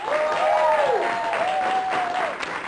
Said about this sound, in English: Please give a round of applause to Keston Hampton.